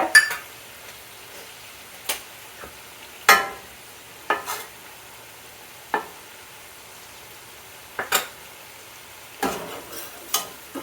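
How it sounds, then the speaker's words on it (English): Flour being cooked in butter in a pot for chicken and dumplings, a spoon stirring with sharp intermittent scrapes and clinks against the pot over a faint, steady sizzle, close and quiet. "now what we're going to do is we're just going to cook the flour a bit"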